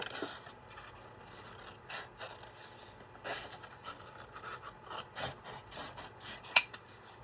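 Hand-cutting leather wallet parts with a knife produces repeated rasping, scraping strokes of moderate loudness that come in irregular bursts, with one sharp click near the end and no talking.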